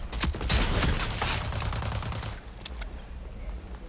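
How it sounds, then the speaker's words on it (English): Rapid automatic gunfire in a shooter video game, a fast dense burst of shots up close, fading a little toward the end, with faint game noise beneath. "Yo, why does your gun shoot so fast?"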